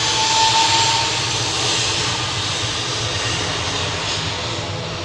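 An EasyJet jet airliner rolls for takeoff at Manchester Airport, a steady broad engine roar heard from a distance that holds evenly throughout, slowly fading slightly, with no voices.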